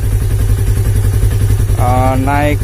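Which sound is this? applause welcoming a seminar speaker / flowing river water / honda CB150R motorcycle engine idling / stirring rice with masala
honda CB150R motorcycle engine idling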